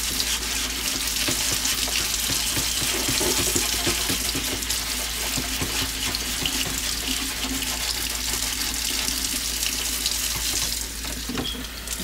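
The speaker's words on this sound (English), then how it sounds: "So we're gonna go ahead and turn on the water." Warm tap water runs steadily and loudly into a sink during wet sanding of a painted body, a constant close splashing hiss with no speech.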